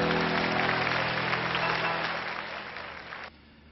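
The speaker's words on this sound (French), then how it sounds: "On l'applaudit, mesdames, messieurs." A French television studio audience applauds in a steady, dense burst over a low hum, fading slightly before cutting off abruptly near the end.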